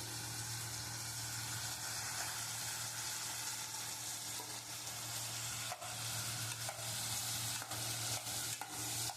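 Chopped onions tipped into hot oil for an Assamese pork fry, hissing in a steady, dense sizzle with the scrape of stirring running throughout, close and fairly loud with no voices.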